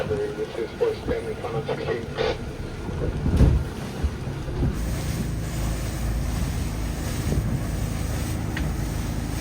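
Steady rushing wind and water noise on a boat at sea off Alaska, loud and continuous, with buffeting against the microphone and a few knocks.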